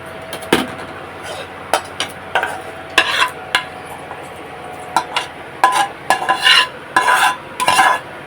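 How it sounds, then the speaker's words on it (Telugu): A tempering is stirred into thick curd, heard as a spoon clinking and tapping against a metal bowl in short irregular bursts, close and fairly loud over a faint background hiss. "ఆ గట్టి పెరుగులో తాలింపు వేసేద్దాం"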